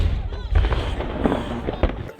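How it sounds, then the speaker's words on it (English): The daily noon cannon fires at the Halifax fortress, a single heavy boom that thuds out from a distance over wind and crowd noise, with people talking nearby. "today you can still hear the daily cannon firing at noon"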